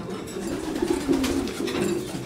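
Soft, throaty coos from a loft of domestic pigeons, older and young birds rolling on continuously, several overlapping at close range with a low, steady murmur.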